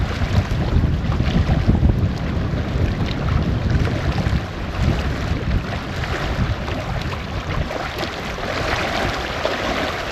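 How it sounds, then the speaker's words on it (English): Loud, constant wind buffeting the microphone with low rumbling gusts, over a faint wash of water at a campground in Jefferson, Colorado; no speech. "Getting really windy out here now."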